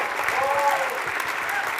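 Audience applause at an evening event honoring Israeli and Palestinian caucuses, a short burst of steady clapping from a crowd, with faint voices mixed in.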